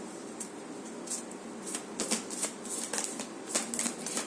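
Tarot cards being shuffled by hand at close range, a soft papery riffling with repeated brisk flutters and slaps, fairly quiet and without talk.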